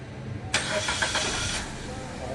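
A Suzuki Ertiga engine cranks and catches, a broadband roar lasting about a second before settling to a quieter idle, air conditioning off, with background noise throughout.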